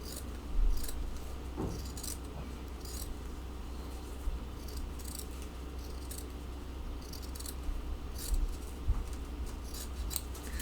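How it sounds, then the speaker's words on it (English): Scissors cut out a sewn fabric doll face pattern with paper attached, giving repeated crisp snips in an irregular rhythm, close and distinct over a low background hum, with no talking. "cut out this pattern and cut right along this part right here that we didn't stitch"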